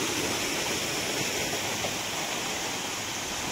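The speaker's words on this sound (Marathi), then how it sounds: "बघू शकता कसा पाऊस पडतोय." Monsoon rain at Matheran hill station pours down steadily, making a dense, even wash of noise with no break and no voices.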